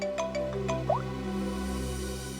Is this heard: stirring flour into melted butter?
no